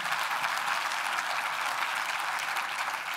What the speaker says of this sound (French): on peut peut-être déjà applaudir ceux qui ont réalisé tout ça